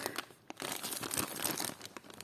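Close, crisp crinkling of a plastic packet wrapping vintage jewellery, in irregular bursts of rustling with brief pauses between, fairly quiet.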